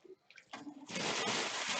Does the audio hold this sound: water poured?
yes